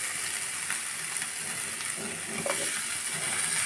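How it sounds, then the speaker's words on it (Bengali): Cauliflower, potato and eggplant frying in oil with ginger-garlic paste for a fish curry, a steady close sizzle with faint stirring clicks throughout and no voices. "দিয়ে দেবো ফুলকপি আলু বেগুন দিয়ে আমি এটা ভালোভাবে ভেজে নেব"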